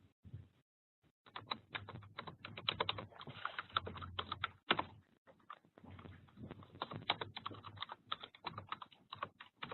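Rapid keystrokes on a computer keyboard as a demo login ID and password are entered, coming in quick irregular bursts with brief pauses, close and fairly quiet.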